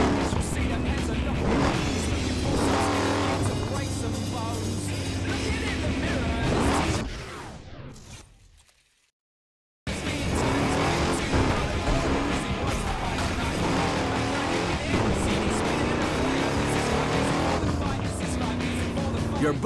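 A speed class car in Burnout Paradise Remastered roars along at full throttle with tire squeal, cuts out abruptly for a moment, then surges back loud and steady.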